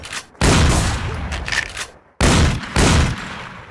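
Gunfire in The War Z video game comes in two loud, sustained bursts of rapid shots, each lasting over a second, with a brief silent gap between them.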